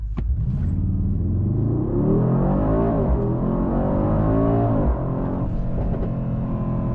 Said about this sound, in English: Let's try the acceleration to 100 km per hour.